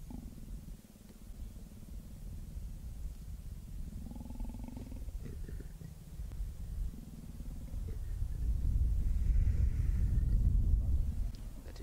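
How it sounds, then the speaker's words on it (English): A big cat in the wild growls low and unhappily in drawn-out rumbling bursts, building to a louder, deeper growl near the end against quiet outdoor background. "That is a very unhappy cat."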